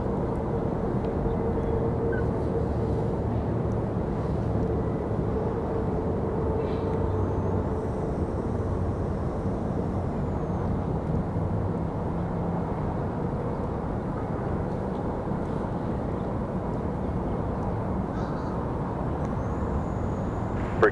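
Mesa Airlines Embraer E175 jet departing Raleigh Durham airport, a steady broadband engine roar that holds at a constant level for the whole stretch, with no voices present.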